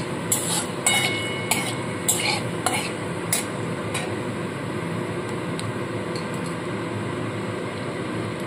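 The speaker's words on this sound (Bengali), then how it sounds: "পাঁচফোড়নে সুন্দর একটি গন্ধ বেরোলে এর মধ্যে আমি দিয়ে দেবো কেটে রাখা আলুগুলো" Cut potatoes drop into hot oil tempered with panch phoron in a pan for a vegetarian green tomato jhal, giving a steady close sizzle with several sharp clinks and scrapes of a utensil early on, then continuous frying hiss.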